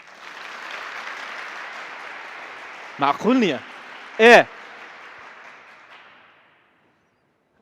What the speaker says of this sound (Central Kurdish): چەپڵەیەک بۆ دایکم